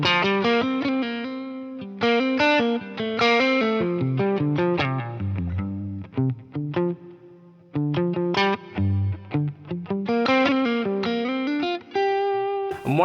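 Electric guitar played through a Line 6 Pod Go modeler on the Aristocrat amp model, a big clean tone with chorus and effects, plucked notes and chords ringing close and clear.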